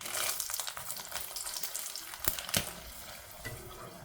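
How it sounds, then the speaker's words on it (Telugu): Dried red chillies fry in a pan for an Andhra chicken karam podi, giving a steady close sizzle with light crackle and a few sharper scraping knocks from stirring, and no voices. "చూడండి ఇలా ఫ్రై చేసుకుంటే సరిపోద్ది"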